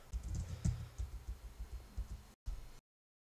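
Typing on a computer keyboard, a quick close patter of soft key clicks with a louder tap early on, running for a couple of seconds before a brief gap and a final burst.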